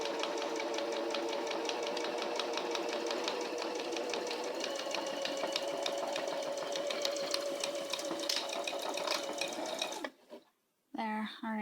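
A sewing machine runs steadily while stitching a seam down the center, a continuous whirring hum with rapid mechanical ticking that stops abruptly near the end before a brief restart.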